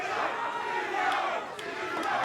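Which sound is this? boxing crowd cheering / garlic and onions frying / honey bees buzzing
boxing crowd cheering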